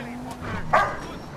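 An excited pet dog gives one short, sharp bark close by during a gaming session, with someone talking over and around it.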